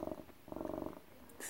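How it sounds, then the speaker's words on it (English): A cat purrs in two rhythmic bursts with a brief pause between, close and fairly soft, followed by a short hiss of noise at the end. "Are you just going to sit there and purr?"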